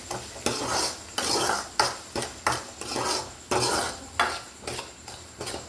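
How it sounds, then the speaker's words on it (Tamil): A spoon stirs macaroni pasta with salt in a pan, making close, rhythmic scraping and rasping strokes, about a dozen evenly spaced sweeps with no talking. "உப்பு போட்டு கொஞ்சம் அப்படியே கிண்டுவோம்."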